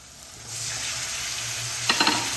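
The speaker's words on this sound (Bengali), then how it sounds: "মশলাগুলো মাছের সঙ্গে ভালোভাবে মিলিয়ে নিচ্ছি" Bombay duck fish pieces frying in spice masala in a pan, a steady close sizzle that swells after a quiet start, with a few quick stirring scrapes near the end, no voices.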